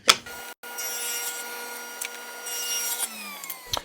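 A power saw ripping wooden stock down into 1.5-inch strips, a steady loud whining hum with a brief dropout near the start and a falling tone as the cut ends.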